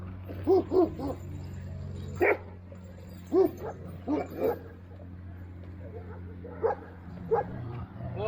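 An old-type Kangal dog gives a series of short barks and whimpers, spaced irregularly and fairly close, over a low steady hum with a handler nearby.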